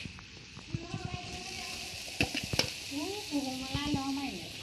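Meat sizzles and spatters as it goes into a hot pan with garlic, ginger and onion, a steady crackle with stirring clatter and a few sharp knocks, while a voice sounds faintly underneath.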